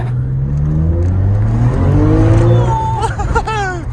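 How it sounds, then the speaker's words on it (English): A Nissan R34 GTR on a night test drive after repairs is revved hard, its engine pitch climbing through several rising sweeps before shifting and fluttering near the end, loud and close inside the car. "It revs all the way up."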